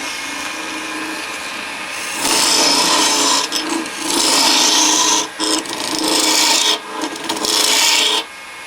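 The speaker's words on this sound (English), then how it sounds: "now I can come back around and start in with my detail gouge." A detail gouge cuts into a spinning wooden box on a lathe, producing loud hissing, rasping scrapes in several long passes with short pauses, over a quieter background motor hum.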